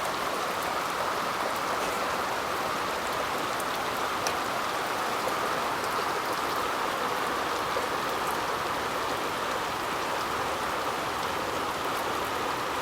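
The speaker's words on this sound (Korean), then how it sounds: "갑자기 지금 소나기가 내리고 있습니다." A sudden rain shower falls on a crucian carp fishing pond at Wondang fishing spot, making a steady, dense hiss of drops on water and surfaces that keeps going without a break and with no voices.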